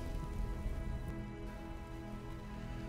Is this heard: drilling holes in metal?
no